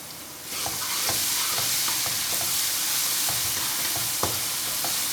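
Crushed garlic and coriander sizzle and crackle loudly in a hot pan, a steady frying hiss with occasional stirring scrapes and pops.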